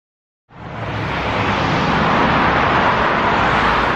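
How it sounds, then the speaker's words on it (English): Highway traffic roars in from silence after half a second, becoming a steady, broad, continuous wash of road noise that holds level with no talking. "excuse the highway noise"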